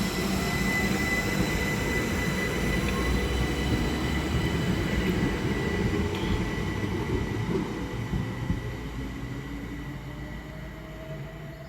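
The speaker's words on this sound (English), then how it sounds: "So there goes 375-301 heading over to Strood." Electric multiple unit 375-301 pulls out of Halling station on the Medway Valley Line bound for Strood, its steady motor whine and rolling rumble sustained loud and close, easing slightly toward the end.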